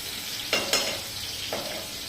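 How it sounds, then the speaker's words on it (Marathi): Onion sautéing in a pan gives a steady close sizzle, broken by a few sharp scraping stirs of the spatula, with no voices. "छान परतू आहे कांदा कांदा आपल्याला असं लालसर होऊ द्यायचा आहे"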